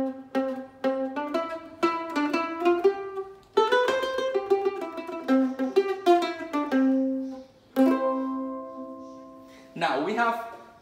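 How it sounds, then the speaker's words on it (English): Eight-stringed Italian mandolin tuned like a violin, played solo and close: a series of bright plucked notes in quick runs and tremolo-like repeats, with some longer held notes and a different, brief sound at the very end. "the mandolin is also an Italian instrument"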